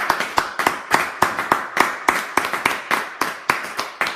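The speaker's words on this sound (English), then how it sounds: "let's give him a round of applause" Steady, rhythmic clapping repeats about three times a second for several seconds, each clap crisp and close, with no voices.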